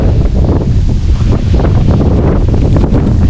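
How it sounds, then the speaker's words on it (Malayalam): Strong wind roars continuously across the microphone at a hilltop viewpoint in Kerala, loud and rough with gusty surges and no voices. "കാറ്റിൻ്റെ മൂളൊക്കെ എന്തായാലും നന്നായിട്ടുണ്ടാവും"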